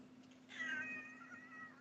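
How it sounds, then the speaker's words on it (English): An unhappy cat gives a single drawn-out, complaining meow, faint and close against a low steady hum, with no one talking. "She is not a happy kitty."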